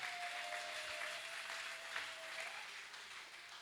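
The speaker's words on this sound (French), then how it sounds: "On peut acclamer pour Jésus." A church congregation applauds during a Sunday service, a steady, fairly faint wash of clapping that continues throughout and fades slightly at the end.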